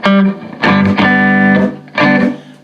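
Electric guitar played through a Fender Champion 50XL amp with a compression effect: three loud, sustained strummed chords in quick succession, each ringing with a tight, evenly compressed tone, heard alone without talk.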